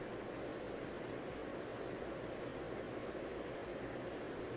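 Simulated airliner taking off in Tower!3D Pro at Atlanta, a steady broadband jet engine roar holding level throughout with no speech.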